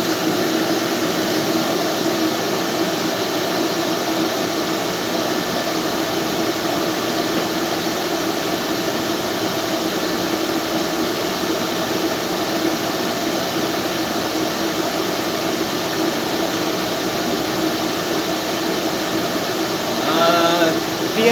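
An air compressor running at about 15 PSI to feed a spray gun while a model is painted; a loud, steady mechanical hum and hiss that stays constant for the whole stretch, with a brief rattle at the end.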